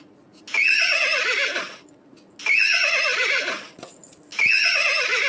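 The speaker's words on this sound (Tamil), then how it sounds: "என்னோட குதிரை ரொம்ப கணச்சிக்கிட்டு இருக்குது" A horse neighs three times in loud, shrill whinnies, each about a second and a half long, separated by short quiet gaps, close and clear with faint background noise.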